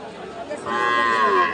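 A local breed cow at a cattle market gives a single loud, drawn-out moo up close after a brief quiet lead-in, with faint crowd murmur behind.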